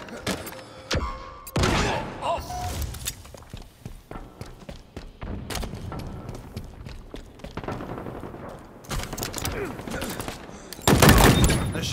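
Intermittent bursts of machine gun fire rattle through a Halo match, spaced out among other game sounds, with spoken voice callouts heard between the shots.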